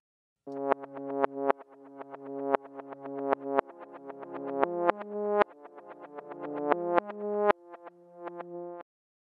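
A copied synth track in Studio One 3, high-passed around 500 Hz and low-passed near 3 kHz with a Pro-Q EQ, plays a rhythmic sequence of sustained, harmonic notes with a thinner, band-limited tone, each note attacking then swelling, alone without voices.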